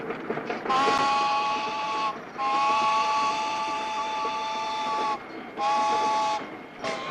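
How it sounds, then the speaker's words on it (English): A train rolls across a trestle bridge in three loud stretches of rumbling clatter, each carrying high, steady squealing tones from the wheels, with short quieter gaps between them. "This is a trestle. We're going over the trestle."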